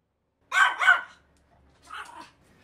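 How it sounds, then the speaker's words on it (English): A very small dog, a neighbour's pet, barks in two bursts. A close double bark comes first and a fainter single bark follows after a short silence. "I also asked my neighbor if I could record his dog, which is a very little funny dog"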